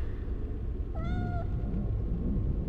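A single short cat meow, clear and mid-loud, in the PlayStation Harry Potter game, heard over a steady low rumble of game background noise.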